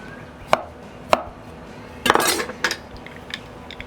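A knife slices limes in half on a cutting board: two sharp single chops, then a cluster of quicker slicing knocks, close and clear.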